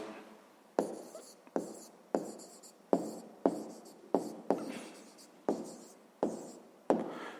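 Handwriting during a fifth-grade math exercise: a pen or pencil scratches across paper in about a dozen short, distinct strokes, each starting with a sharp onset and fading out, close and alone with no talk.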